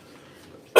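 A single sharp cough bursts out near the end, loud and close, after a stretch of quiet kitchen room tone during a live Christmas Eve cooking session.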